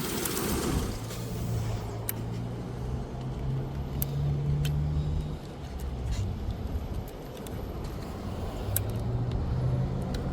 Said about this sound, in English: start it up and just see if you can go into gear